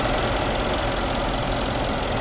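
A 2015 Mercedes S63 AMG 4Matic with a 5.5-liter twin-turbo V8 idles in a steady, close, even rumble that holds at constant loudness with no voices.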